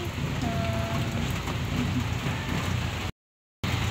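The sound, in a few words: rain pouring down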